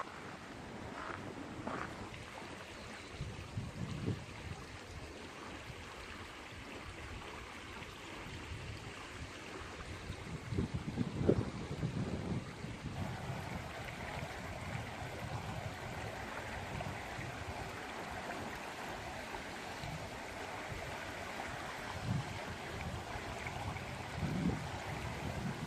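Wind buffets and roars continuously across the microphone in desert near Warm Springs Natural Area, Moapa, Nevada, gusting unevenly at moderate loudness with no voices present.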